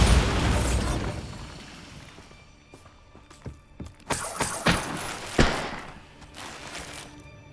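Bombarda spell explosions in Hogwarts Legacy open with a loud booming burst, then several sharper pops, thuds and shattering debris cracks that scatter and decay.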